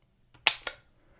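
An old Smith & Wesson Model 10 revolver being cocked and dry-fired single-action: two crisp, close metallic clicks a fraction of a second apart, preceded by a faint tick, in an otherwise quiet room.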